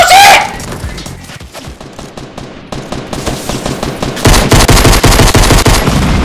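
Rapid automatic gunfire in Rainbow Six Siege rattles close and loud, with an opening shot followed by a long stream of fast repeated rounds that intensifies toward the end, with no speech.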